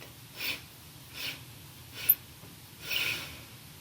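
Deep, slow yoga breaths pass close to the microphone, four soft airy pulses about three-quarters of a second apart with quiet gaps between them.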